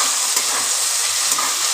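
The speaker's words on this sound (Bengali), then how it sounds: "খানিকক্ষণ ভাজা ভাজা করে নেব।" Onion, capsicum, chilli, potato and carrot frying together for chowmein, a steady close sizzle with faint stirring scrapes and no talk.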